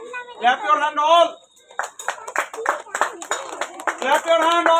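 Children at a school reading-competition prize event clap hands in a rapid, sharp burst of claps mixed under a voice talking over it.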